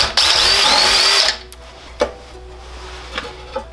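A power drill whirs loudly for about a second while a valve cover comes off a Murray go-kart engine, then cuts out, leaving a few small metallic clicks and taps from the parts.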